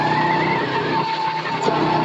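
Go-kart engines racing around a track make a steady, close, buzzing drone that stays loud and even throughout, with no talking over it.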